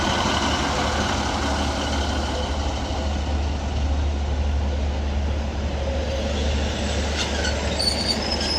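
A Northern class 156 diesel unit pulling into Rochdale station on the Calder Valley line, with a loud, steady rumble of wheels and engine and a thin squeal of brakes that rises toward the end.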